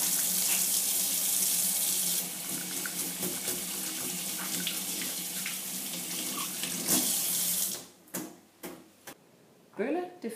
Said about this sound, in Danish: Det første vi gør, det er at få vasket vores hænder.